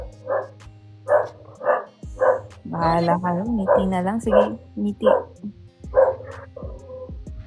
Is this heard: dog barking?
yes